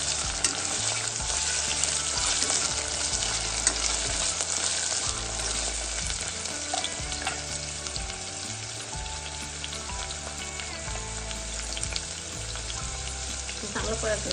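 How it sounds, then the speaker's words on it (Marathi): Cream paste sautéing in hot oil in a pan for vegetable pulao: a loud, continuous sizzle under rhythmic, repeated spatula scrapes and stirs, close up and with no talking. "चांगलं तेलामध्ये परतून घ्यायचं"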